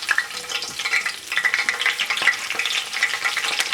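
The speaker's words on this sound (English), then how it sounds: "The oil is warm enough. Now I'll add in the curry leaves" Curry leaves and finely chopped garlic sizzle and spit in warm oil in a pan, a loud, bright, continuous frying crackle with popping bursts, heard alone.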